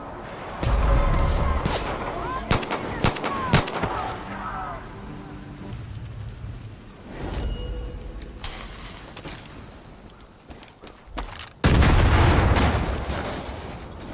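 Hip-fire gunshots in the video game Far Cry 5: loud bursts of rapid gunfire in clusters, heavy booms, pauses between volleys and a final loud burst, with someone talking over parts of it.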